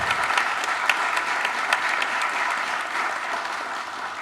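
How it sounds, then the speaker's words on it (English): A sustained round of audience applause for the presenters at a community summit on homelessness and housing in rural Polk fills the room, dense and steady from start to finish. "can we just give one more round of applause for all of our presenters?"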